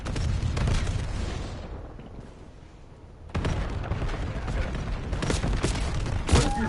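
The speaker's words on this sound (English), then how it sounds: "These are real bullets that are flying above his head. And these are real explosions that they're running from." Black Ops 7 game footage fills with heavy gunfire and booming explosions. A loud barrage dips into a quieter stretch, then erupts again with sharp blasts and rolling rumble.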